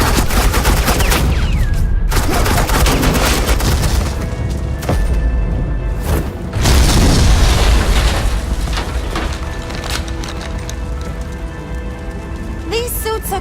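Suppressing gunfire from Batman: Enemy Within: dense, rapid bursts of automatic shots and booming impacts, loud and continuous with brief gaps. They land over a score and effects, with voices talking in places.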